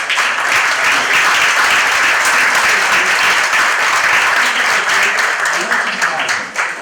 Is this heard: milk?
no